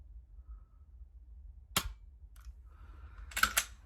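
A pistol's trigger clicks sharply during dry-fire practice, a brief crisp snap close to the mic, followed a little later by a softer click and a quick cluster of two mechanical clicks against a quiet room.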